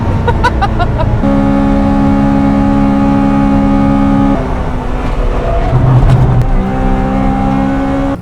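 A Honda Civic Type R EK9 screams at high rpm on the Nürburgring, holding a loud, sustained whine that bounces against the rev limiter, dips briefly, then climbs and holds again.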